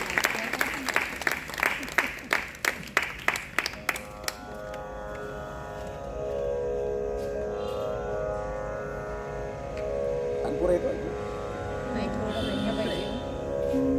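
An audience at a stage programme claps to welcome a singer performing for the first time, with dense rhythmic clapping over the first four seconds that fades into a sustained tone and quiet room murmur.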